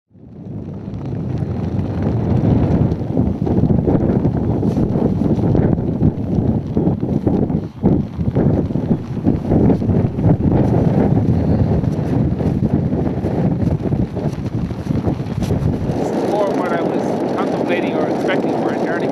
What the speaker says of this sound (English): It's gusting now about 20 to 30 knots, and with the wind chill it's pretty cool